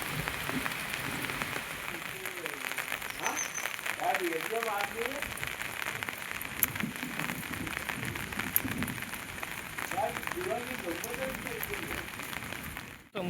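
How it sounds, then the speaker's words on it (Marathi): Steady retreating-monsoon rain in Konkan pattering on surfaces throughout, dense and even, while people talk intermittently over the downpour. "पूर्ण वाटा भिजल्यात भरपूर अर्धा पाऊन तास पाऊसच पडतोय"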